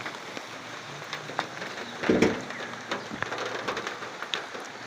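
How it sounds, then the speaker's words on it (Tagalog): Steady rain patters over a surface, a soft continuous hiss with scattered drops and a brief louder splash in the middle. "ulan talaga mga bossing"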